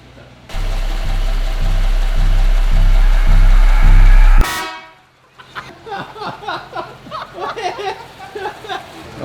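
An old car's engine at an antique road show idles loudly with a rhythmic, pulsing chug, then cuts off abruptly; after a brief quiet, people talk and laugh nearby.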